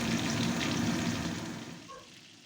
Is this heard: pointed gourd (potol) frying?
yes